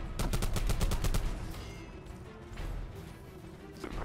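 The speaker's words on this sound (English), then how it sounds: "Suppressing fire on target." A fast automatic burst rattles out loud and close at the start of a shooter video game match, then fades into scattered, quieter shots and low rumble.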